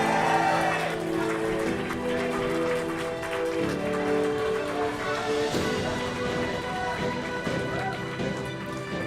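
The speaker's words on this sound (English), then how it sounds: "Please applaud Jake Nice." Convocation audience at a management institute graduation applauding as a graduate's name is called; continuous clapping mixed with crowd noise and background music or voices, moderately loud throughout.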